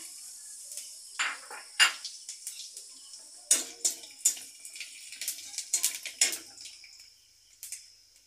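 Whole cumin seeds crackle and sizzle as they hit hot oil in a pan just used for frying fish heads for moong dal, a run of sharp, close spitting pops over a steady frying hiss.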